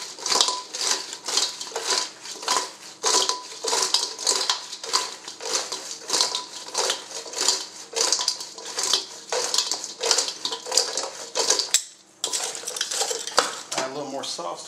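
Chicken wings tossed with hot buffalo sauce in a closed container, shaken hard and steadily so they rattle and clatter continuously, loud and close, with a short pause near the end before the shaking resumes.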